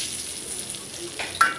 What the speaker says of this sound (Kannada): ಈಗ ಒಂದು ಬೆಳ್ಳುಳ್ಳಿ ಹಾಕಿ ಒಂದು ಒಗ್ಗರಣೆ ಹಾಕಿದರೆ ಆಯಿತು